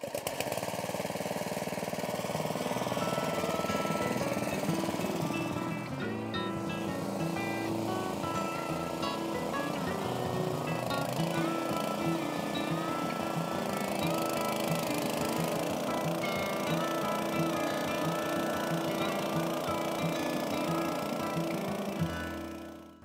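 A water pump running on a boat, a steady loud motor hum with a droning mechanical tone that holds without a break for over twenty seconds before cutting off at the end.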